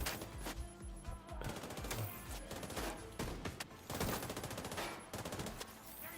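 Super 90 shotgun fire in The Division 2, a rapid series of loud, sharp blasts with clattering impacts, several shots close together, then a pause and another burst.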